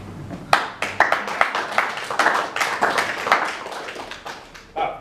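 Audience clapping after a poem reading at a live poetry event, a scattered burst of claps close by that builds briefly and then thins out over a few seconds.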